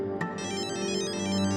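A phone ringtone plays steadily from start to finish, a bright repeating electronic melody heard at moderate volume indoors with no voices over it.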